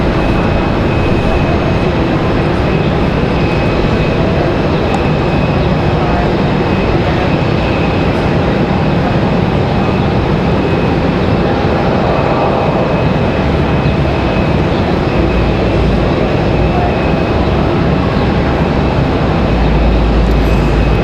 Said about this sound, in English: So that was Republic Airways 5669 headed to LaGuardia.